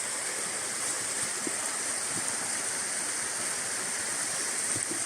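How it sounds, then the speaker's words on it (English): Steady broadband rushing of a river flowing, an even wash of water noise holding constant throughout with no voices. "Listen to the river."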